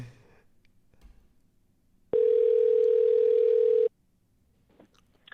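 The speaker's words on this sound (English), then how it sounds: "some of these organizations have a special ringtone that gives me copyright strikes on YouTube" A telephone tone sounds on a call to an organization. It is a single loud, steady electronic tone lasting under two seconds, set between quiet stretches with faint background noise.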